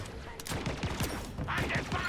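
Rapid gunfire in the video game Halo Infinite, a dense burst of repeated shots firing in quick succession, loud and close, with a voice talking over it.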